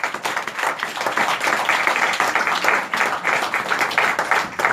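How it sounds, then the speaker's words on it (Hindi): People at a church meeting clap for the Lord, a steady, fairly loud stream of many hands with a faint rhythmic pulse running through it and no talking. "तालियां देंगे प्रभु के लिए।"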